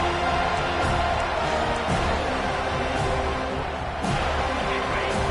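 Football stadium crowd roaring steadily during a college game between Miami and Florida State, a dense continuous wall of cheering with a few louder swells, broadcast commentary murmuring underneath.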